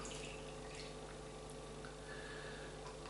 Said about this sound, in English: Gonna give it a pour.